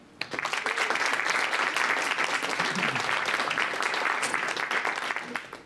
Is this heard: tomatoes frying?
no